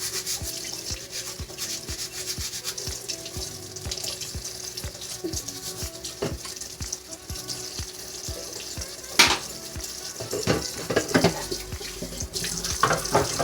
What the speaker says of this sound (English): I'll do a dish or two while I'm waiting.